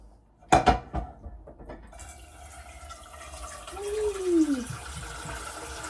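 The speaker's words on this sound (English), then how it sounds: "I like filling up that other saucepan with a bit of water" Water runs briefly into a saucepan at a kitchen hob, preceded by a couple of sharp pot clanks, then a rising gurgling fill that swells and fades near the end.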